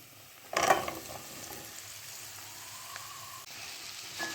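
Papaya pieces sauté with spices in a pan, giving a soft, fairly quiet sizzle that opens with a brief clatter as the food is moved, then settles into a low, steady frying hiss with occasional light clicks.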